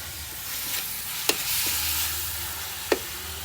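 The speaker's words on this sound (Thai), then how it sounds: "ผักลงไปเลย แล้วเราก็ผัดผัดผัด" Vegetables stir-fry in a pan for northern Thai nam prik ong with minced pork: a continuous sizzle with two sharp scrapes of a utensil against the pan, and no talking.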